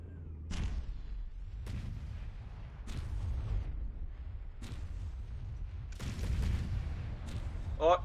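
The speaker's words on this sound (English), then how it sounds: "Oh, torpedoes." Torpedoes striking a ship in the naval combat video game From The Depths, five or six heavy booming impacts spaced about a second apart, each a sharp burst trailing into rumble, with a voice talking between them.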